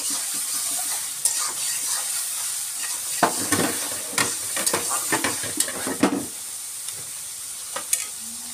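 Fish being sautéed in a pan with salt, a close steady sizzle broken by repeated scraping stirs of a spatula, the strokes growing busier toward the middle, with no talk.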